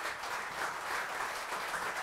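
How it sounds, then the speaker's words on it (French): Audience at a CCI Verviers drinks reception applauding Michel Grignard, a steady wash of clapping from a crowd continuing throughout at moderate level. "je vous demande de l'applaudir"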